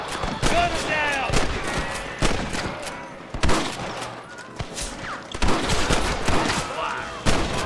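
Gunfire in Red Dead Redemption: repeated sharp shots in uneven bursts, loud and close, with crackling echoes and shouted voices mixed in.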